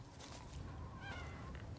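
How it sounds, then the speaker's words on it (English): A single cat meow in Resident Evil Village, with a rising, wavering tone, rings out over a steady low rumble of background noise. "I heard a meow."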